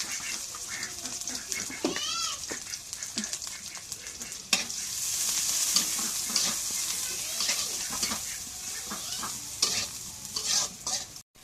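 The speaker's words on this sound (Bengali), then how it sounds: "এখন কড়াই তেল দিয়ে দিই।" Oil frying in a wok while fish and spice paste are cooked for a home meal: continuous loud sizzling with repeated stirring scrapes and clatter, close up, with faint background sounds.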